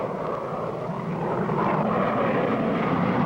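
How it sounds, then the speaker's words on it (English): Cartoon airplane in flight, a steady, loud engine drone humming continuously and evenly throughout, with no voices over it. "I see Hatchett's plane now."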